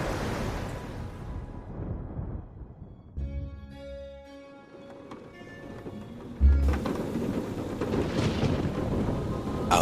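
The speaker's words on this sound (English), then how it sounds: "Outside, the storm raged" A storm in the video game A Fisherman's Tale: heavy rain and wind roar, broken by a rumbling thunder crash, with a brief tonal musical interlude before the downpour surges back even louder.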